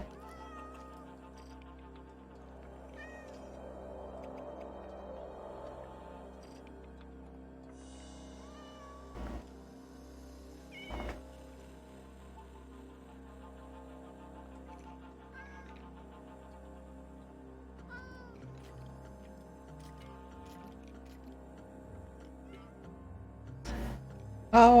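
Cats meow in a video game farm, with a few short mews spread through a quiet stretch under a low steady background hum and occasional clicks.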